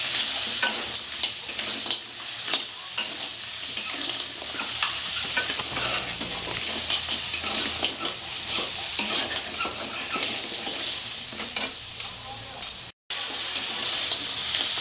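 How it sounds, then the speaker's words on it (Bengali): Crab pieces and potatoes fry loudly in a pan for Bengali-style crab curry, a dense crackling sizzle broken by repeated scraping stirs and clatter, close and continuous with no talking. "আলুটা দিয়ে আমি নাড়াচাড়া করে তরকারিটা দিয়ে দেবো"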